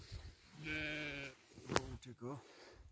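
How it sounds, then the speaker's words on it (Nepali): Sheep bleat on a sheep farm in a single long, wavering call, followed by a shorter second bleat, with a person talking nearby between the calls. "हाम्रो मुन्धुम भेडा फार्मको भेडाहरू हुन् है।"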